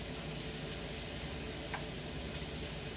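Fatty bacon frying steadily in a pan as it is stirred around, a dense, even sizzle and crackle filling the whole stretch with a few faint scrapes, no talking.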